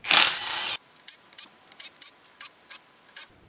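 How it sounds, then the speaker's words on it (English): An impact driver with an 8mm socket runs in one loud whirring burst while removing bolts from a Zetec Blacktop engine's cam cover. A string of short, evenly spaced clicks and taps follows, close by with no speech. "I've got this little 8mm socket onto my impact driver"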